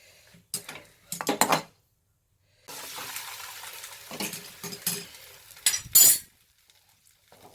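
A spoon works rice into curd and oil for South Indian curd rice, giving short bursts of wet scraping and metallic clinks against the bowl, separated by quiet pauses, close and moderately loud.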